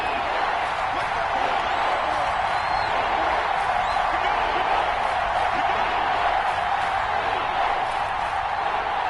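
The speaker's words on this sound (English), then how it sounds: "The crowd getting into it as we come up on a big 3rd down." Stadium crowd in an American football video game, a dense steady roar of cheering that holds at an even loudness for the whole stretch, broad and distant-sounding with no distinct voices standing out.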